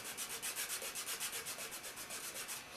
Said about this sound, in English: sandpaper, which is the finer sandpaper, just to smooth it out